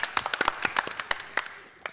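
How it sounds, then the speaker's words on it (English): An audience claps at a speedrunning marathon event during a Toy Story game run, a short burst of dense, brisk applause that fades out after about two seconds. "Give him some claps."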